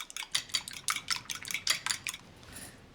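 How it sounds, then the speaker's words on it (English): Eggs whisked in a bowl, a rapid run of bright clinking metal strokes against the bowl, close and steady for about two and a half seconds, then trailing off. "Then we'll whisk some eggs."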